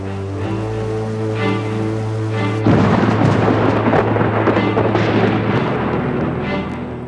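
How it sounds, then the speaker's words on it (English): Heavy rain and a storm sweeping over a river near a bridge: a sudden loud wash of dense rumbling noise that keeps going without a break, over steady sustained tones that begin beforehand. "The rain begins and doesn't stop."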